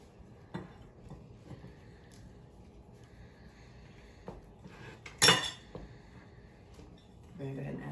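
A spoon stirs Depression-era wacky cake batter in a bowl after milk is added, giving scattered soft clinks and scrapes with one louder clatter, while people talk quietly throughout.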